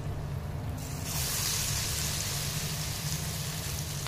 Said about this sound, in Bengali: ভেজে নেব।